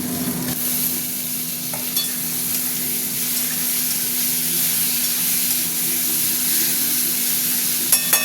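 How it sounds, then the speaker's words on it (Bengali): Shrimp sizzle in hot oil in a pan that already holds frying onions, a steady broadband crackle with occasional stirring scrapes and a few sharper pops near the end, close and continuous with no talking. "এবার আমি চিংড়ি মাছগুলো দিয়ে দেবো"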